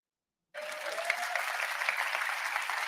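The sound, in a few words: audience applause in a recorded talk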